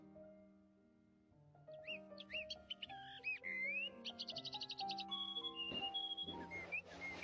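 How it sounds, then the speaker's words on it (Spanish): High birdsong, used as an example of a sharp, high-pitched sound, with quick whistled chirps and trills that grow busier and denser over a softer tonal background, clear and close, with no voices. "escucharás el cantar de los pájaros"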